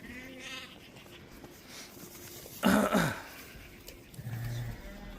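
A single lamb of the Bulldozer breed line, one of a group of six-to-nine-month-old ewe lambs, gives one loud, close bleat of about half a second against quiet background noise.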